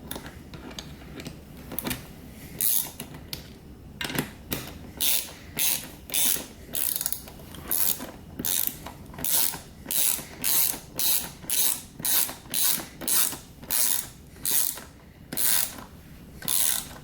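A ratchet wrench tightens a racing seat mounting bolt, giving repeated short bursts of crisp clicking strokes in a steady rhythm. The sound is close and alone, with no talking.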